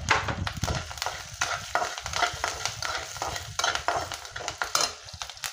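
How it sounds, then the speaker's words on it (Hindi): Peanuts, curry leaves and green chillies sizzle in white oil in a pan for a quick semolina breakfast, with a spoon stirring in close, rhythmic scrapes and clinks over the steady frying hiss, no talking. "थोड़ी सी मूंगफली, इनको अच्छे से सौते करना है। फिर हम इसमें डाल देंगे अपना करी पत्ता,"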